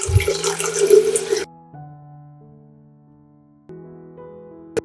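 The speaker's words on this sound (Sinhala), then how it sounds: "නටවා නිමාගත් උණු වතුර මේ අපි මේකට දැන් මේ වතුර දානවා" Boiled hot water pours into a container for tamarind juice in a short, loud splashing burst that stops abruptly, followed by a quiet tonal hum and a brief knock at the end.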